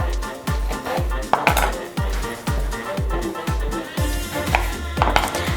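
A knife cuts small guavas into medium pieces for fruit chaat. Close, crisp thuds land on a board in a quick, steady rhythm, about three per second, with faint rustling between them.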